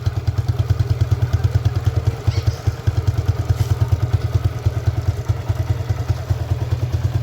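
A Suzuki Gixxer Monotone 2024 motorcycle idles in neutral close up, its single-cylinder engine thumping in a steady, even rhythm with a faint mechanical clatter and no voices.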